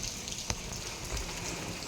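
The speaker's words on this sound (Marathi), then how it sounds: "गाडी खाली करायला काय अजून चालू झालं नाही, कारण की पाऊस चालू आहे" Steady rain patters down in a dense, even hiss, with a couple of sharper drops standing out briefly.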